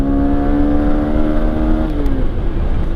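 Honda Unicorn BS6 motorcycle engine held at high revs under throttle, a loud steady buzzing whine with stacked harmonics that drops off as the throttle is released.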